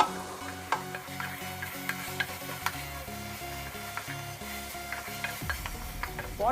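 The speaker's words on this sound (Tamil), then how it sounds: "இப்போ இந்த ஸ்டேஜில் ஆயில் ஊற்றிக்கிறோங்க. நம்ம ஹையில் வச்சு ஃப்ரை பண்ணுங்கள்." Chicken pieces frying in oil in a pan over high heat, a steady sizzle with occasional stirring clinks and scrapes, over quiet background music with no speech.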